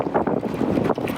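Strong wind buffeting the microphone aboard a sailboat entering Manzanillo harbour on the Pacific coast of Mexico, a continuous low rushing roar with gusty swells.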